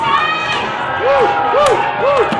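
A crowd cheers and shouts at a lumberjack show in Ketchikan, Alaska, loud, continuous yelling with rising and falling whoops that repeat about every half second.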